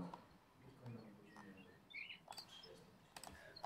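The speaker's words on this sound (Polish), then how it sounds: "No u kogoś ptaki w tyle są" Faint birds chirp in the background of a home setting, small scattered tweets under keyboard clicks and a distant voice.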